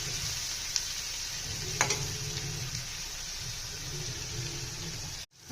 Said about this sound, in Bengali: আপনারা এইভাবে উস্তাবাজিটা বা করলা ভাজিটা করবেন।